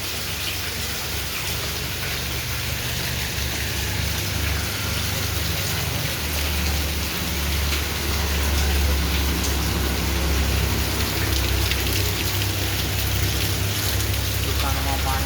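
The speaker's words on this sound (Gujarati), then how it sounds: "હજુ પણ અવિરત વરસાદ ચાલુ છે" Heavy, continuous rain falls over a flooded road in Viramgam, a dense, even hiss of downpour lasting throughout with a low background rumble beneath it.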